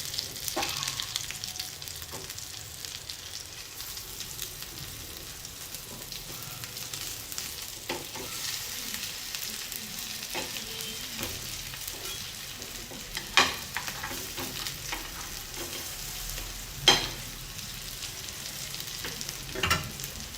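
A taro leaf sandwich pan-roasts in a hot pan and is turned over now and then. A low, steady sizzle runs throughout, with scattered scrapes and a few sharper clicks from the flipping.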